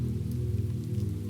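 Steady rain falling during a storm, a soft continuous patter with a low, even rumble beneath, unchanging and calm over a brief stretch with no voices.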